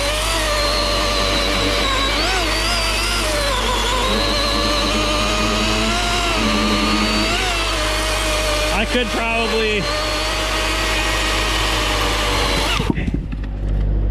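A chainsaw runs continuously while cutting firewood outdoors in wind, its high engine whine rising and dipping under load before cutting off near the end.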